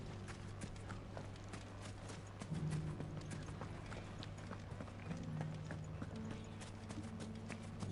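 Video game horse hooves clip-clop in a steady trotting rhythm at moderate distance, with faint mechanical clicks and brief low background tones layered underneath.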